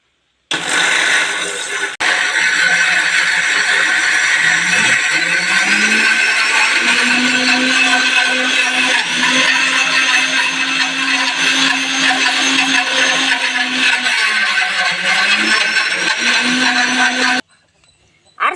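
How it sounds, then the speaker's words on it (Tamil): A kitchen mixer grinder whirs loudly and continuously as it grinds green gram into adai batter with garlic. The motor briefly dips in pitch a few times as the load shifts, then cuts off abruptly near the end. "கொஞ்சம் குறைன்னு அரைச்சி எடுத்துக்கலாம்."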